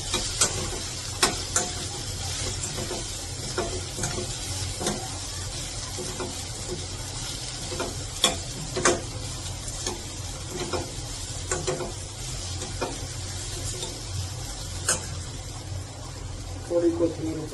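Spices, chopped green chilli and sesame seeds sputter in hot oil as a tempering for bitter gourd muthiya: a continuous close sizzle with scattered sharp crackles and pops, while a person talks over it.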